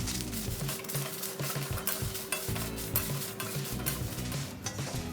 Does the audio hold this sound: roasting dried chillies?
yes